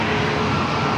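A heavy Lufthansa Airbus A350-900 arriving at San Diego Airport on flight 466 from Munich gives off a steady, loud broadband jet roar for a brief moment, with no voices.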